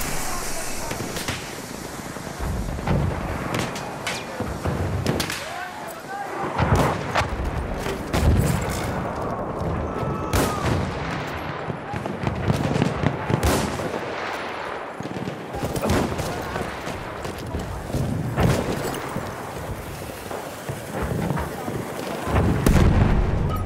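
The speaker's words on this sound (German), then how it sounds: "Granate! Noch Granate unterwegs," Grenade blasts and scattered gunfire on a Battlefield 1 battlefield, heavy booms and crackling shots throughout under shouted voices.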